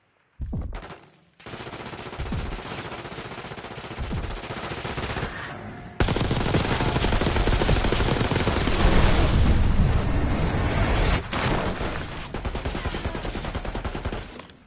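Sustained gunfire from Black Ops 6, dense machine-gun bursts with booming shots running almost continuously, loud and close, with brief gaps between volleys.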